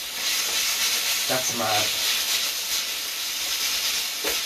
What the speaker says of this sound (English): Now you see we're coming back to frying again. You can just hear that.